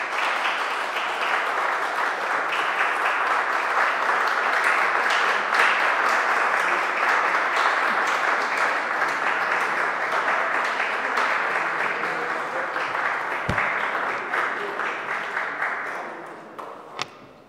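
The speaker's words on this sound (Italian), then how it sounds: "Un bellissimo applauso" A lecture audience in Italy applauds warmly after a talk on Dante and Dostoevsky, a long, dense wave of clapping that holds steady before thinning out into scattered claps, with a single sharp knock near the end.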